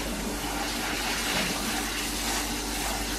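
Basmati rice is washed under running water, a steady, close gush of flowing tap water with no talking over it.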